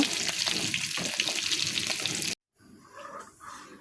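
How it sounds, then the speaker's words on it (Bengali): Chicken pieces frying in a pan, a dense, fairly loud sizzle for a little over two seconds, then a sudden cut to a quieter stretch of softer crackling. "এখন করে নিচ্ছি চিকেনগুলা, ফ্রাই করে নিচ্ছি।"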